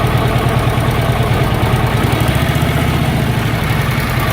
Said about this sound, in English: if you listen to the motor, we're going to retard it. You hear the motor smoothing out.